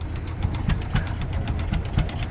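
A 1918 IHC Titan 1020 tractor engine runs steadily while plowing a large field, giving a low, heavy chugging with a regular, slightly uneven beat and clattering knocks, heard close and alone.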